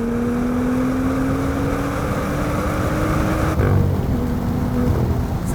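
A turbocharged BMW M2 engine revs up toward redline, its rising pitch climbing steadily and loudly for several seconds before an upshift drops the note, after which it pulls again.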